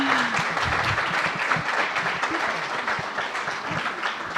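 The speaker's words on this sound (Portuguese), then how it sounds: "Uma salva de palmas." An audience at a spiritual lecture on mediumistic art gives a round of applause, steady dense clapping filling the room for several seconds without speech.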